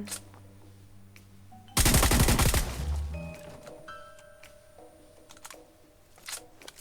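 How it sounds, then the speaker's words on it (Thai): Gunfire in the battle-royale game PUBG: a sudden rapid burst of automatic shots lasting about a second, followed by quieter game effects and faint tones, with no talk. "ขอเคลียร์กระสุนหน่อยละกัน"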